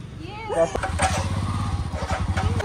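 A motorcycle engine idles and revs with a steady low rumble in Himachal, while voices talk over it throughout.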